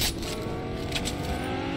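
Car driving in the Fortnite video game, a faint, steady engine drone with whooshing road noise and a few soft swells, brief and in the background, without talk.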